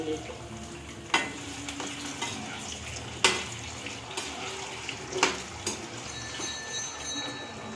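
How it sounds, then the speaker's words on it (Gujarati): Purple yam shallow-fries in hot oil in a kadhai with a continuous soft sizzle and bubbling, broken by a few sharp stirring clicks and scrapes from close by. "હવે એમાં પહેલાં આપણે રતાળું નાખી દઈએ અને રતાળું આપણે સેલો ફ્રાય કરીએ"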